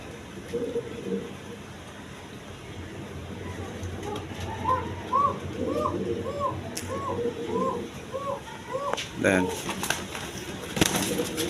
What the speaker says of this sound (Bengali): এখানে এক পেয়ার পাঙ্কি কবুতর আছে